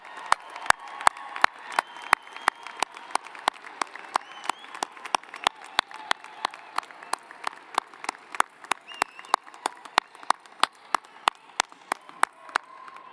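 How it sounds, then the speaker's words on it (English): Sparse, scattered clapping from an audience at a spring university graduate and doctoral commencement, as attendees honor graduates' loved ones; individual claps ring out distinctly rather than merging into a roar. "please join me in giving them a round of applause for all of their support"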